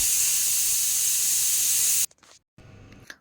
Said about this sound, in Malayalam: കുക്കർ അടച്ച് നമുക്കത് കുക്കർ അടുപ്പിൽ വെക്കാം കറി ഒന്ന് വേവട്ടെ